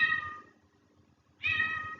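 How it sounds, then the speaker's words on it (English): A cat meows twice, about a second apart, faint and fairly close in a quiet room, with no talking. "Oh, this cat, poor kitty."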